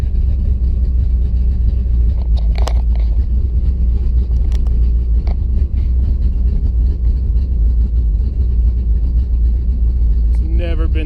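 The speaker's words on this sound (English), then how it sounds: "It's never been this choppy of an idle." Car engine with Holley Sniper fuel injection idling roughly, a low, uneven, choppy rumble held steady and close, with a few faint clicks and mechanical ticks over it.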